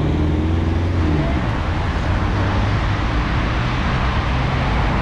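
Dense rush-hour car traffic on a Bucharest bridge, a loud continuous roadway roar with low engine rumble and a brief rising engine tone early on, no voices.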